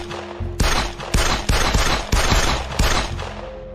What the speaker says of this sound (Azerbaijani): Makarov tipli tapancası ilə ani olaraq ətrafındakı insanlara atəş açmağa başladı